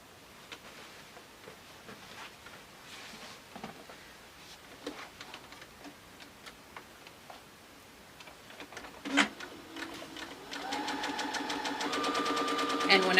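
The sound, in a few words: sewing machine stitching fabric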